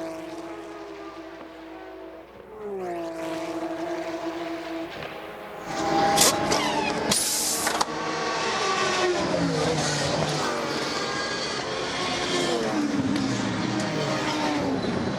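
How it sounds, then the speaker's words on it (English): A race car engine at the 2012 Petit Le Mans drones and shifts pitch as it slows and enters the pit lane, followed by a loud burst of mechanical noise and a sustained roar. "Now listen to the engine as he comes in."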